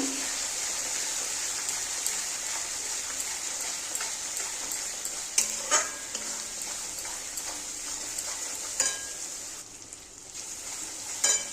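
A spice paste with turmeric and Kashmiri chili powder fries in a pan, giving a soft continuous sizzle with occasional clinks and scrapes of stirring, faint and close, with no talk.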